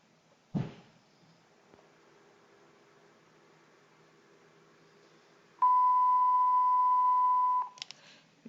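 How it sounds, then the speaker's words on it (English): A single steady electronic beep sounds for about two seconds, loud and clear, after a soft knock and near silence. "you heard the beep"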